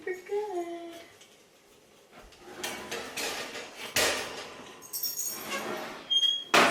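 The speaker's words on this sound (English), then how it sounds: "Okay, so I'm gonna take the bread out of the oven now." Sourdough bread pan pulled from a home oven: metallic clanks, scrapes and a rattling door slide up close, with a brief squeal near the start and a sharp knock at the end.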